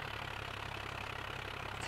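A tractor engine idles in Farming Simulator 2011, giving a steady, faint low throb with an even pulse and no talk.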